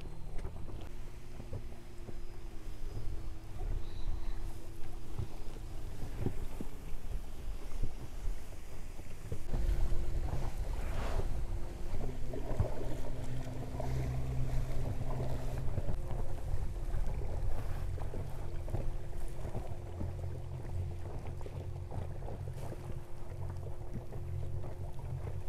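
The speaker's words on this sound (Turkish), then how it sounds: "Çok esiyor ya, gölden geliyor." Strong wind blowing off a lake at a family tent camp by a river, a continuous rough rushing and buffeting against the microphone, with deeper gusts partway through and no talk.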